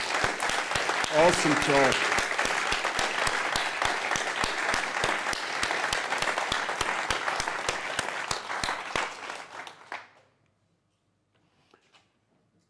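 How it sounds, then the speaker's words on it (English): An audience at a conference closing ceremony claps for the speakers, dense sustained applause for about ten seconds before fading to silence, with a brief voice heard over it. "let's give a clap for all the speakers of this year's TX"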